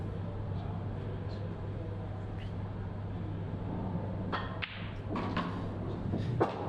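A cue strikes a ball in a mixed pairs pool match, giving a few sharp clacks and thuds amid a steady background hum, with knocks clustered toward the end.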